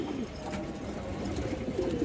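Army pigeons, one of many birds kept together, give a soft, low cooing that runs steadily through a brief, fairly quiet moment against light background noise.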